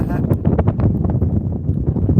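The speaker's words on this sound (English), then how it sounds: "wow, it's getting windy again." Strong wind buffets the microphone in a continuous low roar with gusty rumbling, loud and close.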